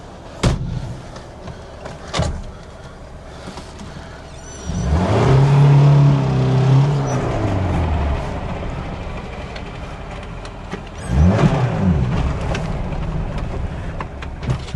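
Car engine revving hard and accelerating on a test drive in Poland, with two loud rising surges separated by steady cruising, plus a door thump near the start.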